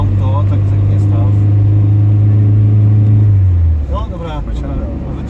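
Car engine running while driving with a customer aboard, a steady loud low hum that drops away near the end, with voices talking over it.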